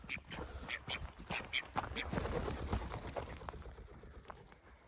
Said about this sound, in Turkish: Ördekler çok güzel olmuşlar.